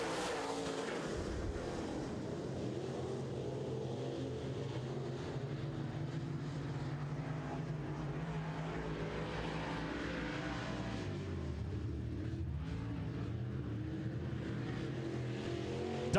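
Modified race cars roaring around an oval track during a heat race, a steady, continuous engine drone heard from a distance.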